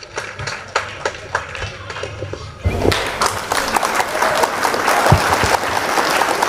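Applause from the audience at a Tamil association thanksgiving event in Chennai, starting as scattered claps and swelling after about three seconds into a dense, steady ovation that continues to the end.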